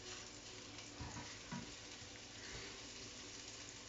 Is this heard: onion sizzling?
yes